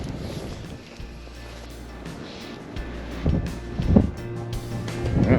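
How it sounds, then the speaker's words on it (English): Strong, cold wind gusts across open water during winter fly fishing, a steady low rumble of buffeting with louder surges near the end and no talk. "That wind is damn strong"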